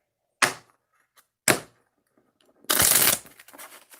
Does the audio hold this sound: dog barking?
no